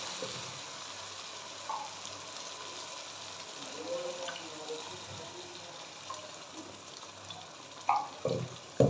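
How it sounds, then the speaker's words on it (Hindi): Two cups of water are poured into a pan of cooked masala to make the gravy for Mumbai-style egg bhurji. A soft continuous pour and a light sizzle are heard, with a few clinks near the end. "2 कप पानी।"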